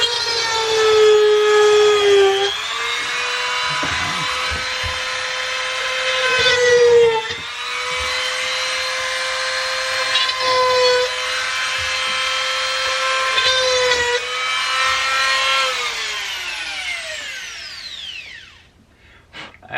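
A Wen rotary tool, model 23114, runs at max speed while cutting hard material, giving a loud, steady high-pitched whine that dips and recovers in pitch a few times before spinning down near the end.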